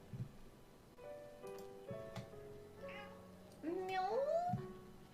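A cat meows indoors, a few short, rising, tonal cries that grow louder toward the end, with quiet room noise between them.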